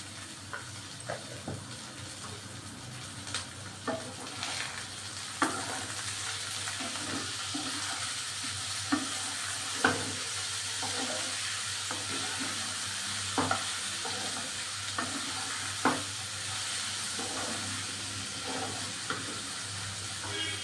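Chopped capsicum and tomato fry in a pan for pasta, giving a faint continuous sizzle with intermittent light taps and scrapes of a spoon stirring throughout.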